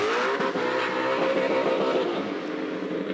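A Formula Drift car's engine revs hard through its exhaust at a competition round in Atlanta, a loud, continuous high-pitched snarl rising and falling, with faint tire squeal and no talking.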